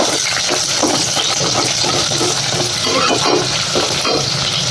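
Chopped chilli and two or three onions frying in a pan for a fenugreek gojju, giving a steady, close crackling sizzle with scraping stir sounds throughout and no voices.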